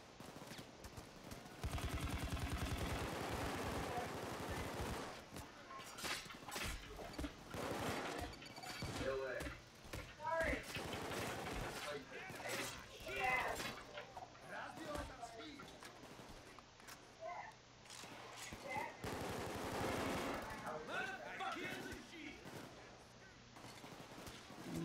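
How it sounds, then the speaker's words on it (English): Gunfire from a Payday 2 heist while defending a safehouse, rapid bursts of shots clustering in several loud stretches, with someone talking over much of the action. "everyone's firing at me to reload"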